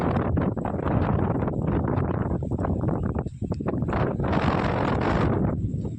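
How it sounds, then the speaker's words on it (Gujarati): Strong wind roars steadily against the microphone, a loud, gusty rumble that buffets for the whole stretch with no voices. "જો અને પવન તો હજી સતત ચાલુ"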